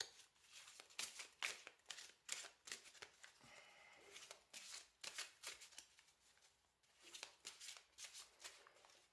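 Oracle cards shuffled by hand for a tarot-style astrology reading: a steady run of crisp, riffling card flutters and soft slaps, close and fairly quiet, with brief pauses between bursts and no talk.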